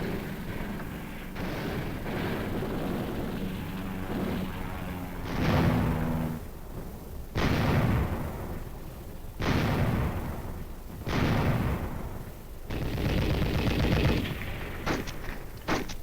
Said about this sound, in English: Again and again, the aircraft came in to hit with bombs, bullets, and rockets.